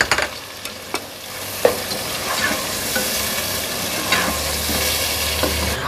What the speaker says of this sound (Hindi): और इसको एक मिनट तक भून लें